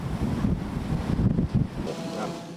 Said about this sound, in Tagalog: Dama rin ang lakas ng ulan at hangin sa Pasay City.